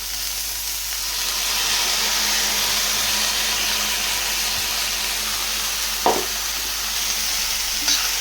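About half a kilogram of chopped beetroot fries steadily in a pan with onion, curry leaves, lentils and salt, a continuous broad sizzle with occasional soft scrapes of stirring, close and fairly loud with no voices.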